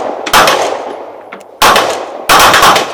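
Three loud, close pistol shots from a SIG P210 9mm fired at a 25 m outdoor range, each a sharp broadband crack with a trailing echo, spaced about a second apart.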